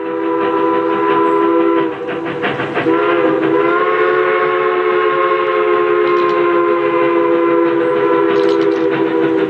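A train whistle sounds over the steady rumble of a rolling train, loud and sustained with the whistle tone shifting partway through, no speech.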